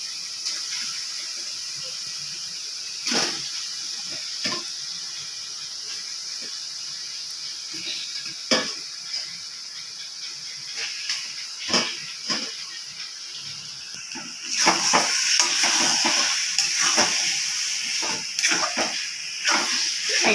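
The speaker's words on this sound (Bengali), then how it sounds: "এবার আমি চিকেনগুলি এর মধ্যে দিয়ে দেব।" Chicken pieces frying in a pan of cooked-down spice masala, giving a steady mid-loud hiss with scattered clatters of stirring that grow denser and louder toward the end.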